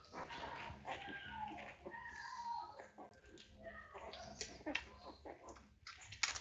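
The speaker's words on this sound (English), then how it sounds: "They're growing puppies, Carrie." Newborn puppies in a litter whimper and yip in thin, squeaky cries that rise and fall continuously, close by, with a few soft handling noises mixed in.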